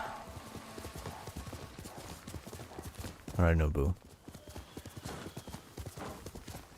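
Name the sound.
horse galloping in Ghost of Tsushima video game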